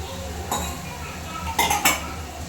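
A utensil stirs curd frying in a pan with tomato paste, giving a few close, loud metallic clinks and scrapes against the pan over a steady low background.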